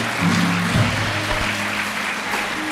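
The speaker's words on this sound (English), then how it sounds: "Let's give the Lord a hand clap of praise." A church congregation claps in praise to the Lord after a closing prayer, a steady wash of many hands with low tonal hum and a few voices or organ notes beneath.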